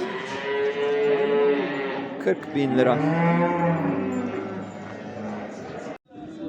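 A cow at a livestock market in Göksun, Kahramanmaraş, lets out a long, loud, close moo that rises and holds for several seconds, while traders' voices talk over and around it.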